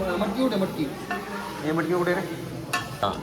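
Moth beans tipped into a hot pan of onions for misal at a village temple gathering, sizzling and frying steadily with stirring and utensil scrapes while people talk nearby.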